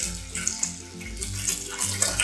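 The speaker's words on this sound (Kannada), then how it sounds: "ಸಾಸಿವೆ ಚಟಪಟ ಅನ್ನೋಕ್ಕೆ ಶುರು ಆಗಲಿ" Mustard seeds splutter in hot oil at the start of a jackfruit seed curry, a faint, steady sizzle broken by irregular small crackles and pops, heard alone.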